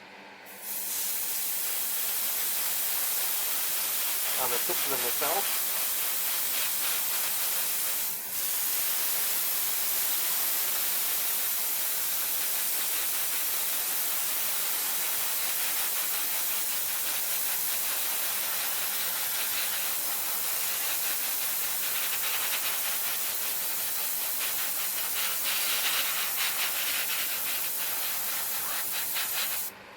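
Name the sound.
airbrush spraying paint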